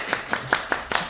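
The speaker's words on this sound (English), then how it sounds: "going to give Lizzie on the front line a clap" Audience at The Living Room clapping for a band member, six sharp, evenly spaced claps from a small group, close and moderately loud.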